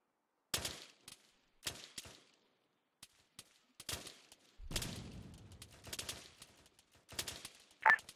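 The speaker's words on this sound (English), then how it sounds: "We're up on a wall right now, laying suppressive fire on the tower." Suppressive gunfire from a wall toward a tower in a military video game: scattered bursts and single shots crack at irregular intervals, some rapid and overlapping, with quiet gaps between.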